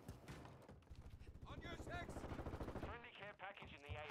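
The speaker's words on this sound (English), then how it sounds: "Bro, I just shot this dude fucking 3 times in the chest and in the face and he still didn't die." Rapid gunfire in the shooter game Call of Duty: Modern Warfare II, dense automatic bursts mixed with a voice talking over the steady, loud game audio.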